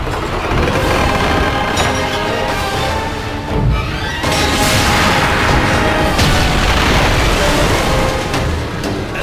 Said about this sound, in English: go shoot the ballista to stop those ships from firing to you